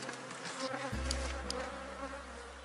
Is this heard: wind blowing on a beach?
no